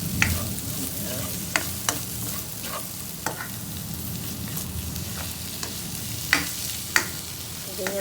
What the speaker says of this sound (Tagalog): Halo-haloin nyo lang ng konti.